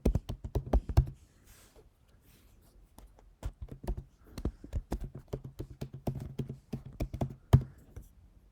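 Close, crisp computer keyboard typing of a username and email address, with bursts of rapid keystrokes separated by brief pauses.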